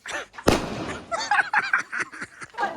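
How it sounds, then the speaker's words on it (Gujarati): Firecrackers set off on a tin roof during a Diwali night, giving one loud sharp burst followed by a scatter of smaller crackling pops and rattles. "આમ કોકના પતરા માથે આ ભાઈ ફટાકડા નાખે"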